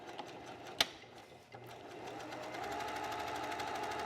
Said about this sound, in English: go back to your sewing machine. This time I'm just going to backstitch with a regular.